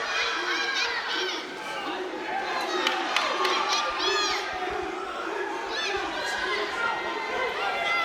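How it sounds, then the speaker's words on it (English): A packed crowd at York Hall roars and cheers during a British flyweight championship boxing bout, a dense continuous wall of shouting voices with whistles and individual yells rising above it. "the crowd are absolutely loving it here at York Hall"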